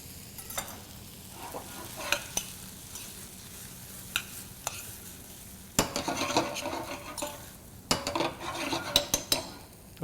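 Black bean filling with tomato, cayenne, garlic and scallion cooks in a pan on medium-low heat, a soft sizzle under intermittent utensil scrapes and clanks against the pan, louder clattering stirs near the end.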